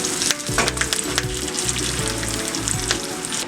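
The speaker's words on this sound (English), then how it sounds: "Add around 1 teaspoon of mustard, half teaspoon of cumin, few dry red chilies and few curry leaves." Mustard seeds, cumin, dry red chilies and curry leaves frying in hot oil for a tempering, a loud crackling sizzle with sharp popping bursts and stirring clatter.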